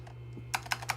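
Three quick keystrokes on a computer keyboard, crisp and close, evenly spaced over a steady low electrical hum with no talking.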